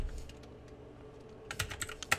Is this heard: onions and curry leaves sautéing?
no